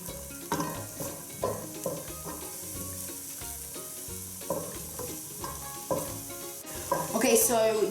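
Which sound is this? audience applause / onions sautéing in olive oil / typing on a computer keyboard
onions sautéing in olive oil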